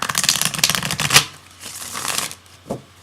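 Tarot cards being shuffled in quick, dense riffling bursts for about a second, then quieter intermittent card handling with a soft tap near the end.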